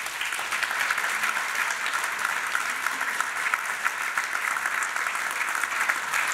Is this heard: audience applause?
yes